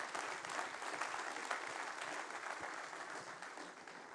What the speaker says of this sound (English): I suggest we give them a big applause for really an interesting speech.